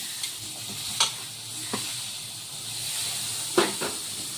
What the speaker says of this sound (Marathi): आता यामध्ये हे टमाटर टाकायचे